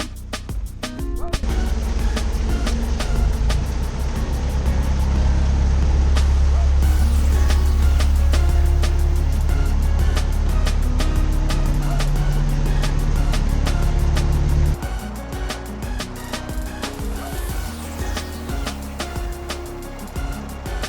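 Steady low road rumble of motorway traffic carries to the Staffordshire and Worcestershire Canal near Penkridge, a continuous broad drone that shifts and thins after about fifteen seconds.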